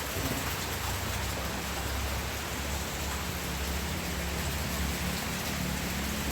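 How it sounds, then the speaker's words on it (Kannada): Rain falls steadily as a dense, even hiss, fairly faint and unbroken, with no voices. "ಮಳೆ ಕಡಿಮೆ ಆಯಿತು"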